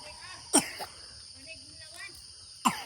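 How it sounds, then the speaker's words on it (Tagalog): Two short, sharp coughs a couple of seconds apart, fairly close, over a quiet background with a faint insect-like hum and soft murmurs. "Uso yung ubo tsaka sipon kahit nga ako inuubo ko."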